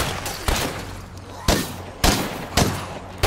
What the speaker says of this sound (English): The amount of attention I attracted from firing this little Ingram or whatever gun this is kind of insane.